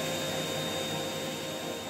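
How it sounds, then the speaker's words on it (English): A kitchen cooker hood or vacuum cleaner drawing in smoke gives a steady, continuous broadband whoosh of suction at constant loudness, with a faint tonal whine running through it and no voices. "the smoke is no longer sucked into the vacuum cleaner"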